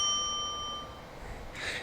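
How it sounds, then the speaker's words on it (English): A single bright bell ding rings out and fades away slowly, followed by a brief quiet stretch. "get your bell ready, Killj."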